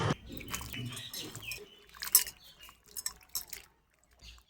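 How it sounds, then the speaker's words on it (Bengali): Watermelon rinds rinsed in clean water in a kitchen: scattered splashes, drips and soft wet clatter of the pieces being handled, close and moderately quiet, with brief pauses between bursts. "এবার এগুলোকে পরিষ্কার জলে ধুয়ে নিচ্ছে"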